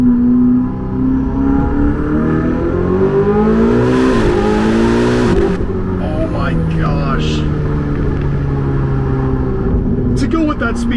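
Ferrari 488 GTB engine pulling hard under acceleration from inside the cabin, a loud rising drone that climbs through gears with a shift around four seconds in, while a person talks over it.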